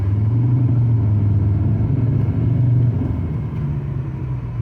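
A BMW E38 sedan accelerating, its engine giving a strong low droning rumble that rises and holds, then eases slightly toward the end, heard from inside the car with no voices.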